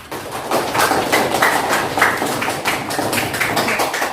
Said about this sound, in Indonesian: Silakan beri aplaus buat kawannya yang jawabannya betul